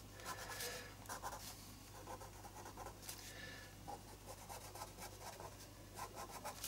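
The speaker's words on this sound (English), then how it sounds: "I'm actually going to do just some kind of scribbly drawing" A pen scribbles loosely across paper for an ink art journal page, giving a soft continuous rasping and scratching with quick uneven strokes, close and quiet over a low steady hum.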